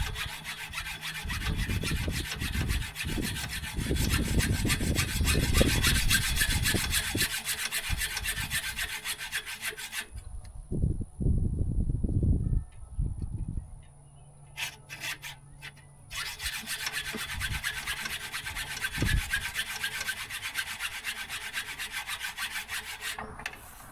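An ITC Saw Boss saw cuts through wood in close, loud bursts of rough rasping strokes, pausing midway for scattered knocks and handling sounds before the cutting resumes.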